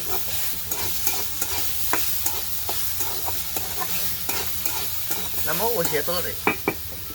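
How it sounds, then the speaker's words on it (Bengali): Kolmi shaak, water spinach, is stir-fried in a pan: a steady sizzle runs under repeated scraping and clinking strokes of a spatula, close and fairly loud, with a brief burst of stirring toward the end. "এখন আমি কমলি শাক রান্না করছি"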